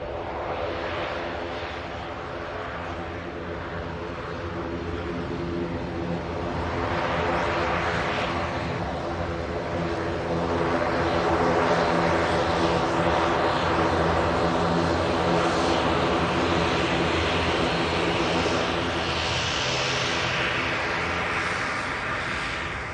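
A passenger plane at Manchester Airport fills the air with a loud, steady roar of engine and propeller drone that swells midway and holds strong for over twenty seconds, with no speech over it.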